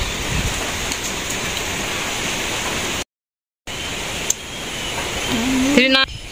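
Steady rain falls on a dark village day, a dense even patter close by that cuts out briefly, then resumes with a sharp knock and a rising tonal chirp near the end, with a voice in the background.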